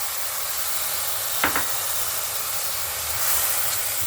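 Fermented black beans (tausi) sautéing over a small flame in a pan, a steady close hiss with a brief clatter of stirring partway through.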